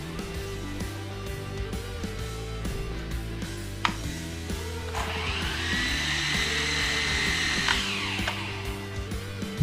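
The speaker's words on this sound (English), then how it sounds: "I'll show you how it hovers here inside." A Snaptain E10 mini camera drone hovers indoors, its high, steady whirring buzz rising about halfway through and holding over a cluttered background of knocks and hum.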